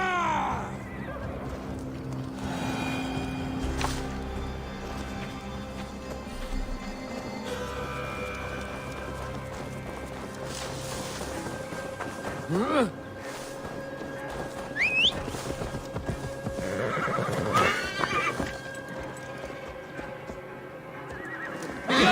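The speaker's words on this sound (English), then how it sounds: "Now to deliver Magni his horse." In a video game, a horse whinnies several times over a steady clip-clop of hooves, with faint whistling and ambient game sounds around it.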